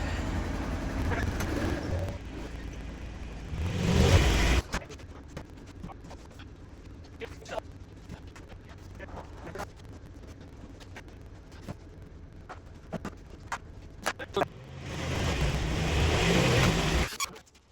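Polaris Brutus utility vehicle engine running loudly at the start and again near the end, with a quieter stretch of ticks and clicks between, plus faint birds in the background.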